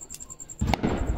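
Firecrackers go off somewhere nearby, one sharp burst followed by a rumbling crackle that fades out, heard faintly over quiet outdoor background.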